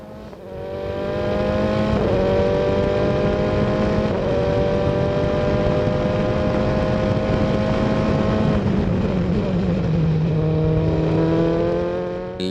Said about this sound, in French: on arrive à la chicane où il y a un gros freinage qui casse un petit peu cette vitesse et on reprend tout de suite une grosse accélération